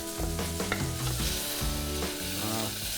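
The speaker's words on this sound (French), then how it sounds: "On fait chauffer un peu d'huile d'olive et on va faire tomber nos oignons." Chopped onions fry in olive oil in a saucepan, a steady close sizzle broken by stirring scrapes and clatter, with no voices.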